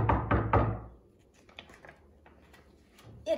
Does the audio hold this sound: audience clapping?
no